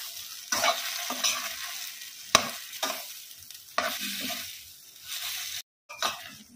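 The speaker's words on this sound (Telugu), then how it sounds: "ఇందులోకి మష్రూమ్ పకోడీ వేసేయాలండి. వేసేసుకొని వీటిని బాగా కలిసేంత వరకు బాగా కలుపుకోవాలి." Mushroom pakoda being stirred in a pan of frying onions and capsicum for mushroom manchurian, with repeated scraping strokes over a steady close sizzle and a brief pause near the end.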